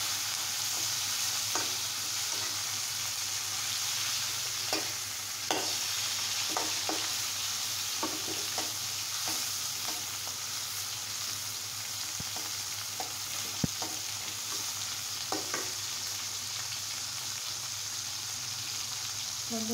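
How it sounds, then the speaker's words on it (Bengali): Leftover fish frying with garlic and onion in a pan, a continuous sizzle punctuated by repeated spatula scrapes and taps as it is stirred, close by with no talking. "মাছের সাথে সাথে রসুন পেঁয়াজটাকে সুন্দর মতো ভেজে নেব।"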